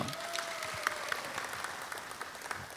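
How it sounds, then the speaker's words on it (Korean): Audience applause at a singing contest awards ceremony in a large concert hall, a steady wash of clapping that is fairly faint and distant, with a soft tonal hum running beneath it. "여러분 축하의 박수 부탁드립니다"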